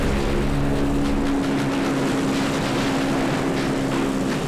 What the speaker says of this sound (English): Aircraft Commander Eric Wood guns the engines, and the cargo pallet shoots out the back of the Hercules